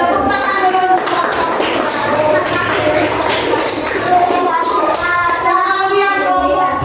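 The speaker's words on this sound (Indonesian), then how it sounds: "Tepuk tangan dulu untuk" Schoolchildren in a fifth-grade classroom clap together for several seconds at close range, the patter mixing with voices.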